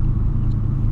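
A Volkswagen Polo fitted with a sport exhaust gives a deep, steady rumble up close, loud and brief with no voices.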